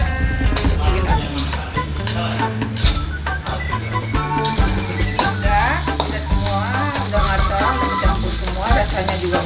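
Green fried rice with shrimp, mustard greens and chili is stirred and fried in a pan, a continuous loud sizzle with scraping stirs, accompanied by background music and a cooing dove.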